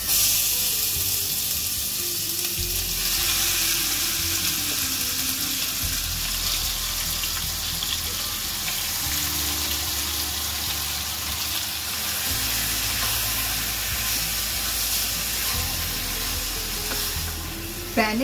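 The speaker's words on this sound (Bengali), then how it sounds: "প্যানে চিকেনটা ছেড়ে একটু ভালো করে নাড়াচাড়া করতে হবে।" Chicken fries in plenty of mustard oil in a pan with a steady, close sizzle, while a spatula stirs and scrapes it in recurring bursts.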